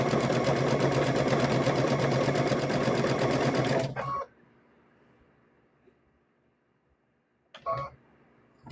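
A sewing machine runs in one fast, loud burst while back-stitching fabric for a stuffed bear's nose, then stops to near silence before a brief final whir.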